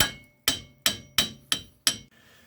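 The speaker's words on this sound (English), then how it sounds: "it may take a little bit of a tap with a hammer to get it dislodged" A hammer taps the front wheel hub assembly of a 2002 Chrysler Sebring Convertible to knock it loose, six sharp, evenly spaced metallic blows ringing close and loud with nobody talking.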